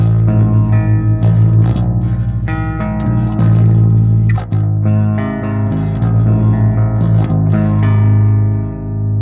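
An Aristides 080S guitar on its neck pickup plays through a Revv Generator 100P amplifier on a clean tone, giving bass-heavy ringing chords and picked notes with sustained harmonics, loud and continuous with no talking.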